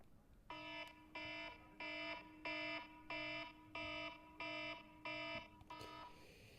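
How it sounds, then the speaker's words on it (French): An old-style alarm ringtone sounds in eight evenly spaced electronic bursts of rapid ringing tone, each about half a second long with short gaps, clear and alone. "on commence directement avec la première sonnerie, alarme"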